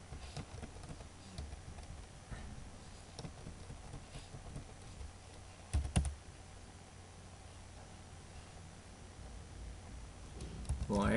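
Soft, steady typing on a computer keyboard while writing code, with quiet, irregular key clicks under a faint constant hiss and a couple of louder taps near the middle.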